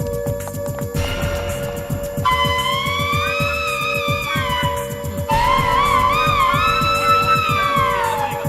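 A fire alarm rings after its button is pressed, giving loud warbling electronic wails in two long bursts that rise and fall in pitch over a rapid, pulsing low rhythm.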